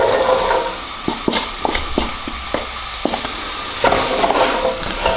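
Onions sizzle in hot oil in a pan for Kashmiri basaar chicken curry, a bright hiss under a quick run of spatula taps and clinks, close and fairly loud, with no talking.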